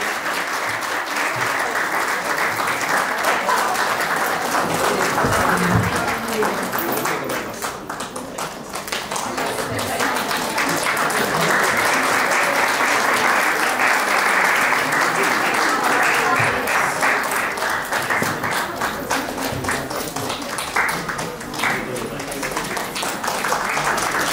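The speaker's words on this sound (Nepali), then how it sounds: "सबैले तालीले साथ दिनु होला साथीहरूको लागि।" An audience at a farewell event applauds in a long, sustained burst of clapping that dips briefly and then swells again, with faint voices mixed in.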